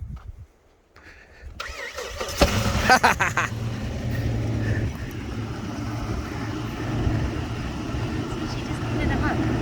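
A 2004 Jeep Liberty Renegade with a collapsed lifter and dropped rocker arm revs hard as it tries to climb a hill off-road, the engine starting abruptly and then droning steadily and loudly, with people talking over it.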